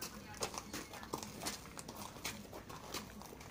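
Horse hooves clip-clop in an irregular rhythm as the animal is harnessed to a cart at a country property, with people talking over the steps.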